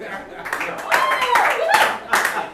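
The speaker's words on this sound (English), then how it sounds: "Please, hold your applause." Audience applause at a comedy show, a few seconds of scattered clapping heard beneath someone talking, with cheers and laughter rising and falling.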